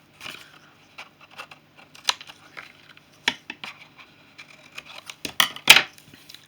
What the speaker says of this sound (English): again, cutting away some little wedges just to create those flaps